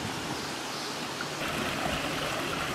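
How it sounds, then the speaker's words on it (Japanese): A clear spring-fed stream babbles steadily at Oshino Hakkai, a continuous close rush of water with no break and no voices. "子供の頃ってこういうせせらぎ大好きですからね。"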